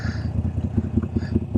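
A Moto Guzzi V7 motorcycle engine while riding, a steady low throbbing pulse with regular rhythmic beats, close and moderately loud throughout.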